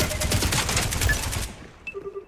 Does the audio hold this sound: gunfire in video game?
yes